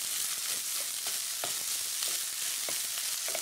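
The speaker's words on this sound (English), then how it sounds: "You just keep stirring and moving it around the pan because you don't want any of the rice to actually burn on the bottom." Vegetable biryani made with ready-prepared rice sizzles and fries in a pan while being stirred and moved around, a steady crackling hiss with soft scraping stir sounds every so often, close and continuous, no talking.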